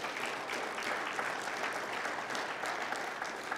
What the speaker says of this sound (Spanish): Dele un aplauso de alabanza pues al Señor.